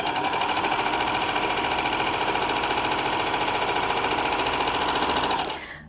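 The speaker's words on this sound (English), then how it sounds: "So let's start with some muslin, which is obviously quite fine." A baby lock Enlighten overlocker stitches fine muslin fabric in a steady, loud, continuous rhythmic whir that runs for about five and a half seconds, then stops abruptly, with no talking.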